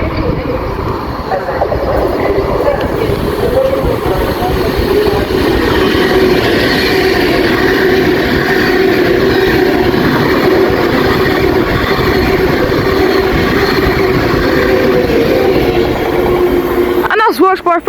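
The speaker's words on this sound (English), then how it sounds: "the next train to pass by is another Avanti West Coast Pendolino running a service from Manchester Piccadilly to London Euston" An Avanti West Coast Pendolino train roars through a station for a sustained loud rush with rumbling wheels, and the noise cuts off abruptly at the end.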